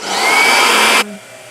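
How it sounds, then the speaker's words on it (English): A hair dryer blows with a steady, loud whooshing roar, then cuts off abruptly, leaving a low fading hum. "Blow dryer."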